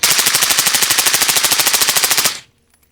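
A rifle fitted with a B5 Bravo stock and a forced reset trigger fires one fast, even burst of about thirty loud, close shots over two seconds. The burst stops abruptly and is followed by near silence.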